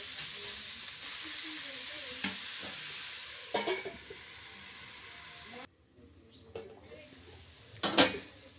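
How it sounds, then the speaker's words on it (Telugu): Grated carrot and bitter gourd curry frying in a pan, a steady sizzle with scraping stirs around the middle, a sharp drop near six seconds, then more clinks and stirring strokes. "మధ్య మధ్యలో ఈ విధంగా కలుపుతూ మనము పూర్తిగా ఫ్రై చేసుకోవాలి"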